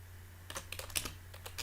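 Quiet computer keyboard typing, a short uneven flurry of soft close keystrokes over low background hum.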